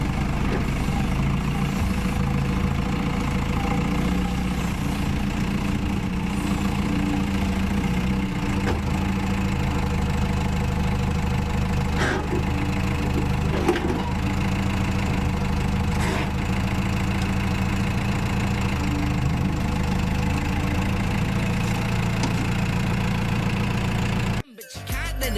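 A truck engine idles steadily for a long stretch while set up to tow a Toyota Hilux with a rusty cab, a constant mid-to-low rumble that cuts off abruptly at the end.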